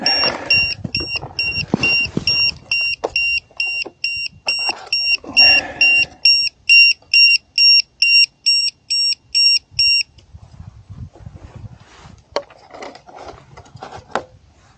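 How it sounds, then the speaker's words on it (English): A series of short, high electronic beeps from a model aircraft's ESC pulses rhythmically for about ten seconds after an emergency landing, mixed with clattering handling noise, then stops while faint rustling continues. "We'll listen out for the ESC beeping"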